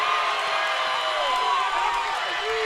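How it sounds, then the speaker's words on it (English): A high school basketball crowd roars and cheers for the Orange Park Raiders in a gym, a dense, loud, continuous wall of voices with a commentator talking over it. "The Orange Park crowd is into it right now."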